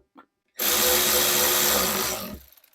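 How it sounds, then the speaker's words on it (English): A power ratchet whirs in one continuous burst of about two seconds while tightening the fuel bowl bolts on a 1999–2003 7.3L Powerstroke diesel, preceded by a faint click and trailing off at the end. "not using the power of the ratchet to tighten these up."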